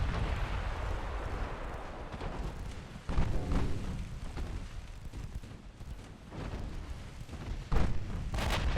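Naval guns fire in the warship game Ultimate Admiral Dreadnoughts, with 5-inch and 16-inch batteries: a continuous low rumble of battle with heavy booms at intervals, one near the middle and another toward the end, and no talk.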